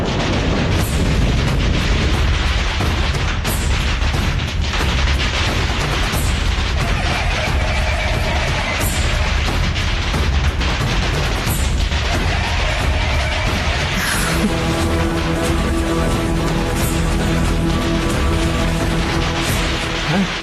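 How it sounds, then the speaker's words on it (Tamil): Firecrackers burst in rapid, loud succession at a house anniversary celebration, a dense continuous crackle with sharp pops throughout. "நம்ம வீட்டுக்குள்ள வந்து யாருமா பட்டாசு வெடிக்கிறா?"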